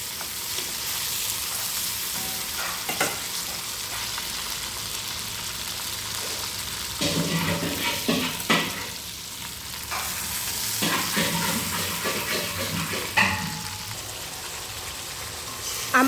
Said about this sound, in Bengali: আমার ভেজে রাখা মাংসগুলো এবারে এই কষানো মশলার মধ্যে দিয়ে দেব।